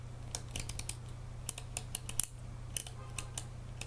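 Metal dials on a Fuji X-Pro2 camera click in a quiet, irregular series of crisp, close detents, some in quick pairs, heard alone.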